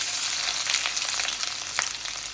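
Ginger fries in coconut oil with popped mustard seeds and fenugreek for a homemade garlic pickle, a soft continuous sizzle with scattered crackles and small pops nearby.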